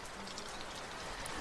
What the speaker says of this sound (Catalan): s'ha posat a ploure